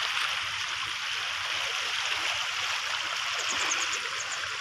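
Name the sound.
river stream flowing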